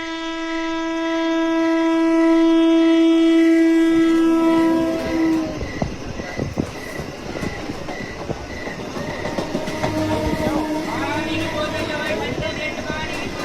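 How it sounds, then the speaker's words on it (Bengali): A train pulls into a station, its horn blaring long and loud at first, then rolling wheels, clanking and squealing brakes as it comes in close, with people talking over it. "ওই যে ট্রেন এসে গেছে, তোর প্যাসেঞ্জার এবার নামবে রে।"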